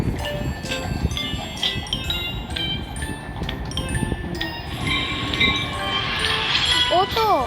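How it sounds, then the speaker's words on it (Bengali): A train pulling into a station, with steady rail rumble, metallic clinks and squeals over a busy platform, and people's voices faintly audible in the background throughout. "ট্রেন এত তাড়াতাড়ি চলে আসে"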